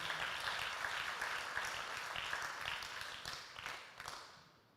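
A church congregation applauds during an Easter service, many hands clapping together in a dense, even wash at moderate distance that holds steady and then fades out over a few seconds.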